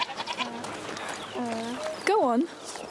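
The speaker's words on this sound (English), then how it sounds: "You're a nice goat, Lucinda." Goats in the video game A Plague Tale: Requiem bleat several times in quavering calls, the loudest and wobbliest near the end, mixed with soft background chatter.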